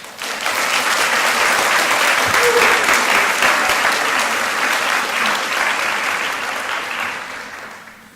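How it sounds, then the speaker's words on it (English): A sustained round of applause from the audience at a university nursing school recognition ceremony for award winners, dense even clapping for about seven seconds that fades out at the end. "let's please give all these award winners a round of applause"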